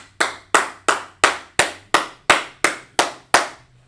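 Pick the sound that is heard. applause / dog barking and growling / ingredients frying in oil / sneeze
applause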